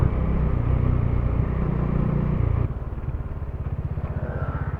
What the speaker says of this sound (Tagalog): Buti, dito may kasabay tayo na motor.